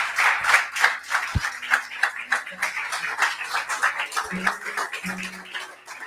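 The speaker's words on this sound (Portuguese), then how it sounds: "Em nome de Jesus, dê um aplauso a Jesus." Congregation in a church clapping, a moderately close patter of hands with uneven rhythm and a few sharp thumps and murmurs mixed in, tapering slightly toward the end.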